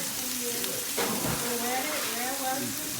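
Butter sizzling on a Blackstone griddle as steaks cook: a steady crackling fry with a brief louder burst near the middle, under a voice talking.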